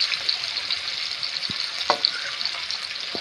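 Onions frying in white cooking oil in a pan for Bangladeshi pulao, a steady hiss of sizzling with a few brief clinks and stirs, close and alone.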